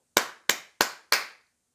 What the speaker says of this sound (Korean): 박수를 보내줘야 됩니다.